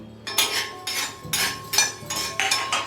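Peanuts tossed into a pan of frying vegetables while cooking a brinjal curry, heard as a series of about six rhythmic metallic scrapes and clinks of a spoon stirring in the pan, close and fairly clear.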